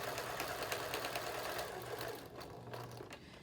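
A sewing machine stitching a stack of medical face masks runs in a steady, fast mechanical hum with rhythmic needle ticking, close and continuous, easing slightly toward the end.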